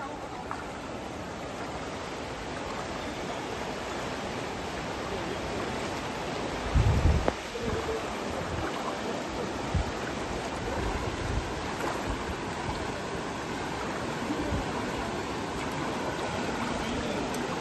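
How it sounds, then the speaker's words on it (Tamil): Steady broadband rushing of floodwater pouring into a farm field after heavy rain fills the whole clip, loud and continuous, with a brief thump in the middle. "தண்ணி இந்த வயலுக்குள்ளே எவ்வளோ ஸ்பீடாக போகுதுன்னு"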